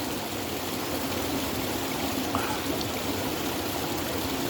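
Creek water flowing steadily outdoors, a soft continuous trickle and burble that stays faint and even throughout, with no voices.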